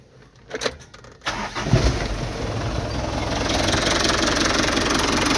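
After a few faint clicks, an overhauled Mitsubishi 4D35 diesel engine cranks and catches, then settles into a loud, rough, knocking idle that grows slightly steadier and fuller as it keeps running.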